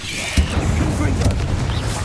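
The Confringo explosive spell in Hogwarts Legacy goes off as a short, deep boom followed by rumbling, with a voice calling out over it.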